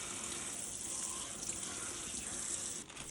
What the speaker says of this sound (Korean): 먼저 준비한 알배추를 살짝 물에 헹궈주세요.